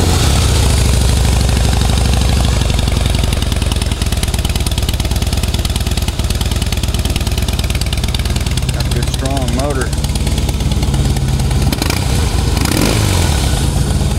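A Harley-Davidson Heritage Softail Classic FLSTC with a 96-inch engine and six-speed transmission starts and runs at a steady, loud idle close by, with a few blips of throttle, while someone talks over it.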